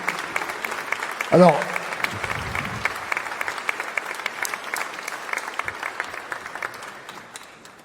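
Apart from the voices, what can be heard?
audience applause at a wind orchestra concert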